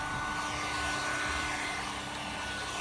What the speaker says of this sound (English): you can use the heat gun to dry it inside